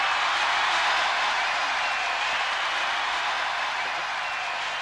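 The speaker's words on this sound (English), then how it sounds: "listen to the crowd roar now, the home team of Bonn" A large outdoor crowd at a Jeux Sans Frontières game in Bonn roars steadily for the home team, a dense broadband cheer held throughout at constant loudness.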